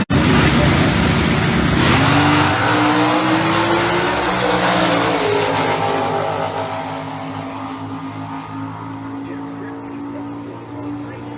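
Drag racing GT super stock cars, including a Firebird, launch down the strip with a loud roaring engine that climbs through the gears and then fades into the distance, with a commentator talking over it.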